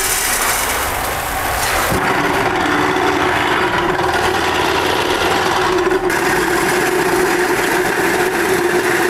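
A grinder machine for chicken-feed material runs loudly and steadily, a continuous motor whine with a firm hum that shifts slightly in pitch after a couple of seconds, no speech.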